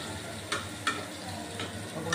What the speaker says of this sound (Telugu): ఒకవైపు బెండకాయకి వేగిపోతూ ఉంది